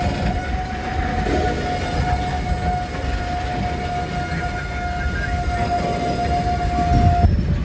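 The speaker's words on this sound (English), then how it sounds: "And the engineer would pull the train forward so they can switch tracks." A freight train pulls forward to switch tracks, its heavy rumble rolling steadily with a sustained high tone ringing over it until near the end.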